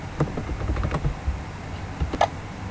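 Typing on a computer keyboard, a run of uneven key clicks at a close distance with a few sharper, louder strokes near the end, no voices.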